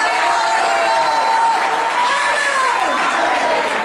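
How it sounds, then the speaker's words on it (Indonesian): A congregation at a church healing service in Yogyakarta breaks into sustained applause, a dense steady roar of clapping with voices calling out over it throughout. "Mana tepuk tangannya lagi"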